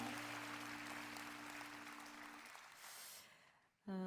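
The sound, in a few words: applause for the Lord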